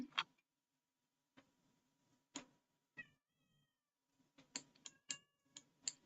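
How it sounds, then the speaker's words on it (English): A pet cat meows several times in a quiet room, the short cries spaced irregularly and close to the listener, with a soft ticking clock faintly in the background. "That is my crazy cat."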